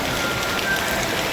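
Rain patters steadily at night outside a shop, a soft continuous hiss with no voices.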